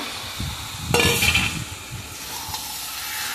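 Fish, fried stalks and potatoes tipped into a hot pan of spiced oil with a sudden loud sizzle, then hissing frying and scraping stirring that settle to a steady crackle.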